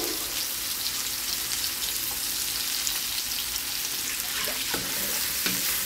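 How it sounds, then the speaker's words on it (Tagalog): Shrimp sautéing with ground pepper in a pan for ginisang upo, a steady close sizzle and fry with occasional stirring scrapes, no talking. "Igisa po natin mabuti para hindi siya malansa."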